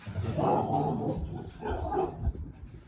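Several dogs bark in short bursts on a patio, with yips and whimpers between the barks. The barking is fairly loud and close, and there is no talk over it.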